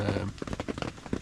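Heavy rain drums on the canvas of a hot tent pitched beside a lake, a dense close patter with brief louder bursts.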